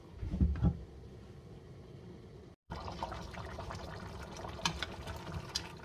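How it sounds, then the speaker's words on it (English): Egusi soup simmers in a pot, giving a quiet, steady bubbling and gurgling texture with faint liquid pops, close and soft, with a brief cut of silence midway. "I'm going to allow it to simmer for the next 10 to 15 minutes"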